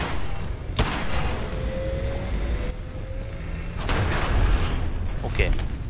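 Assaultron robot blowing up in the Fallout 4 video game, with sharp explosive blasts and booming impacts over steady game noise and a loud burst near the end, as a player talks alongside.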